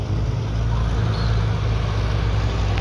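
An FNM D11 crawler bulldozer pushing earth, its diesel engine giving a loud, steady, close rumble that holds throughout without pauses.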